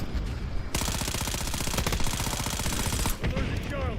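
Video game gunfire erupts in a dense automatic burst, rapid evenly spaced shots hammering for over two seconds, loud and close over game noise, then fades to quieter effects.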